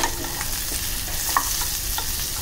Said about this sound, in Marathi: कारलं छान फ्राय झालं, काढून घेऊया.